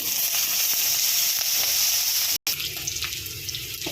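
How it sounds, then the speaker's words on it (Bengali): Onions dropped into hot fish oil with bay leaves and tempering spices, a loud steady sizzle and hiss, briefly cut by a short silence, then continuing with crackles. "এবার পেঁয়াজ দিয়ে দিচ্ছি,"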